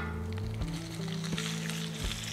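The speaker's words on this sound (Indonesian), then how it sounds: "Kita tumis sampai dia mengeluarkan minyak ya." Beef bacon sautéing in olive oil in a frying pan with mushrooms, a soft hissing sizzle under a steady low hum, broken by a few sharp clinks, with no talking.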